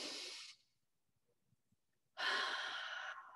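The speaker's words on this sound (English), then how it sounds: "In through the nose, out through the mouth, breathe." Slow, deep breathing, in through the nose and out through the mouth: two long, airy breaths heard close, separated by about a second and a half of near silence.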